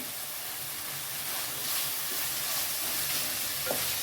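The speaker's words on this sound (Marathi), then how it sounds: "सगळा मसाला छान मिक्स करून परतून झालाय तेल सुटले" Masala and yogurt sautéing in hot oil in a pan give a steady, close, hissing sizzle, with occasional soft stirring scrapes and no talking.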